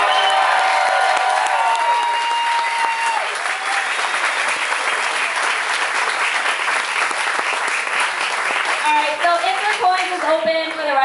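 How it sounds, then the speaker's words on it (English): Loud, sustained applause and cheering from a party audience, a dense wash of clapping with whoops and crowd voices running steadily through, with some musical tones surfacing near the end. "And a huge round of applause for Crystal for putting this on."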